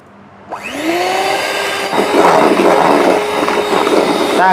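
A mixer grinder powdering sugar starts up with a rising whine, then runs as a loud, steady motor drone, growing rougher and harsher partway through as the sugar churns inside.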